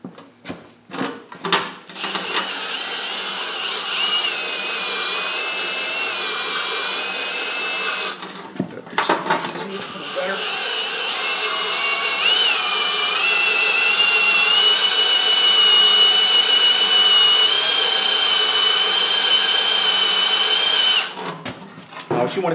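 A hand drill spins a Lisle 15000 cylinder hone inside the bore of a 12 HP Briggs engine, giving a steady, loud whining drone with abrasive grinding for about twenty seconds, broken by a brief pause and a few short bursts.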